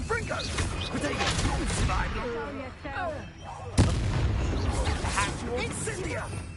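Confringo explosive spell cast in the Hogwarts Legacy video game, a sudden blast cutting through ongoing combat noise while a voice shouts over the action.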